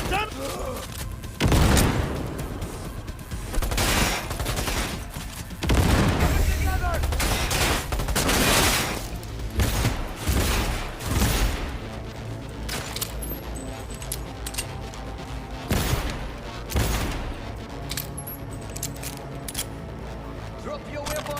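Heavy gunfire crackles through a Cyberpunk 2077 firefight, with rapid automatic bursts and booming single shots that come loud and close over about twenty seconds. The firing thins out toward the end, and voices shout now and then in between.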